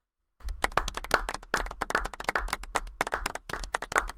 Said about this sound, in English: Pop the claps in.